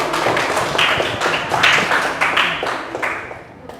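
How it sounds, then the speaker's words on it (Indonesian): A school class clapping for all the groups during a lesson about the kolintang, a brisk, loud patter of many hands that swells and then thins toward the end, close and indoors. "tepuk tangan buat semua kelompok"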